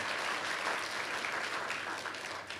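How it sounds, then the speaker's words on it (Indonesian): A church congregation gives a steady round of applause during worship, an even, dense wash of clapping hands that holds at a moderate level and fades slightly at the very end. "Boleh kita kasih tepuk tangan buat kemuliaan nama Tuhan."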